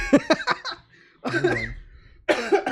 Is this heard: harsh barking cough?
yes